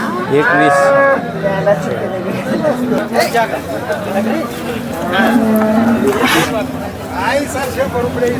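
Several cows moo loudly and repeatedly over a busy crowd of people chattering nearby at the Sangola cattle market, a steady outdoor hubbub throughout.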